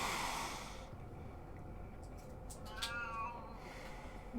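A cat meows in the horror game Penance RPG, one drawn-out, wavering cry sounding midway through over a steady low ambient drone.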